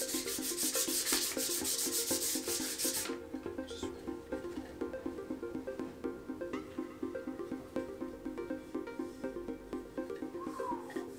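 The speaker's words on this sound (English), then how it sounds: "Let's give it another little sand. Using 1200 grit again." A wooden keyboard wrist rest is hand-sanded with 1200 grit sandpaper, producing a fast, regular back-and-forth rasping close by. A loud buzzing hum fills the first few seconds before the sanding carries on alone.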